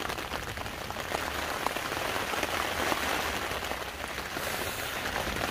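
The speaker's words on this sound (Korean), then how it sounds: "텐트를 두드리는 빗소리가, 장맛비, 작대비처럼 이렇게" Heavy seasonal rain drumming on a tent during a backpacking camp on a mountain, a dense steady patter of drops on the fabric with no break and no voices.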